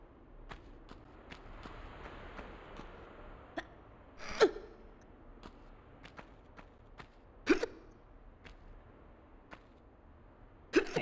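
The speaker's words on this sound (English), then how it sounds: "Got the hiccups this morning." Hiccups from a person in short, sharp bursts, about three spread over several seconds, close and fairly loud above quiet background game sounds with faint ticking.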